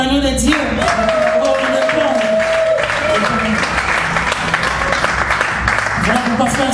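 Congregation in a church service clapping and cheering loudly together, a dense continuous wash of applause with voices mixed in throughout.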